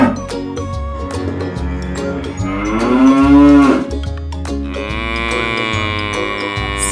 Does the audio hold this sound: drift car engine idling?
no